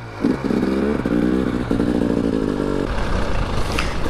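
A KTM EXC 300 two-stroke dirt bike riding downhill off-road, its engine buzzing steadily close by, easing and picking up again in two stretches before dropping away.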